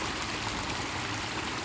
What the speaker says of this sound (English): this is the only running water we got coming through here